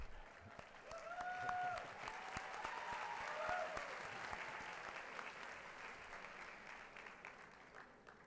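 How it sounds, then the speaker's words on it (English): An audience at a high school commencement ceremony claps for a commissioner, sustained and moderately distant, swelling early and then slowly thinning out. "Commissioner Cruz and Moe's always gets the biggest round of applause."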